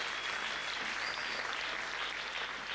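Steady, dense applause from a congregation at a church prayer service during a fasting and prayer gathering, filling the whole stretch at even moderate loudness with no voices over it.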